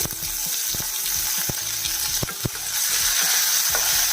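Chopped ginger and green chillies fry in hot oil in a pan, a steady close sizzle broken by scattered sharp clicks and pops of stirring.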